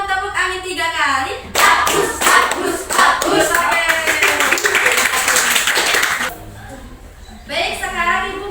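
Rhythmic clapping game of tepuk nyamuk and tepuk angin led by a teacher in a classroom, with sharp group claps in bursts over mixed voices of a teacher and children chanting.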